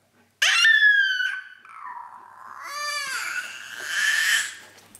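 A dog whines and yips in a burst of high, wavering cries, then a longer run of whimpering and squealing, close and fairly loud, alone without talk.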